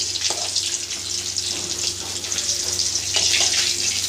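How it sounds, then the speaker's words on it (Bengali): Steady loud hiss and crackle of catla fish pieces frying in hot oil over medium gas flame, continuous and close throughout. "মাছগুলো এরকম করে ভাজছি"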